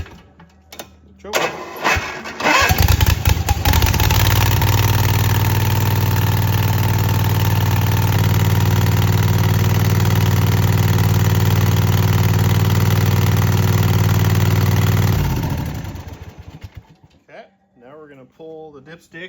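A Husqvarna zero-turn lawnmower's small engine catches after a choke start, runs at a steady, loud idle-like drone for about twelve seconds, then winds down and shuts off, leaving faint clicks and background noise.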